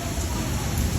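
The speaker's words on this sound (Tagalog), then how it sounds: "Ang lakas ng ulan, oh." Heavy rain pours down steadily with wind, a dense loud unbroken hiss and patter close by, with no voices.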